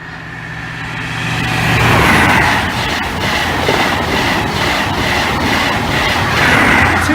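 A British Rail Class 43 HST express rushes past a level crossing at Cromwell Lane, loud and close, a steady roar of wheels and rail noise that swells and holds for several seconds without any talk.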